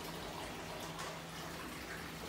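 Water gushes steadily from a tap, a dense, even hiss with a low hum beneath, close and constant throughout.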